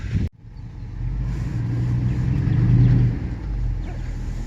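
A vehicle engine rumbles and builds as it drives along, a steady low drone that swells and then eases, starting after a sharp knock.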